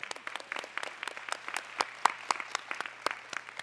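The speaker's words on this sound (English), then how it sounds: "can we all have a round of applause for you guys?" Sparse, scattered clapping from a small audience at a neighborhood resource center gathering, individual claps distinct and uneven, fairly close and moderately quiet.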